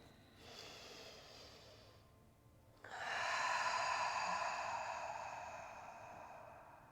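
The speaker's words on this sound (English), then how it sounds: "Last breath in and out." Slow, audible breathing during a floor-work yoga class: a long airy inhale, a brief pause, then a stronger, fuller exhale that fades gradually, close and alone with no talking.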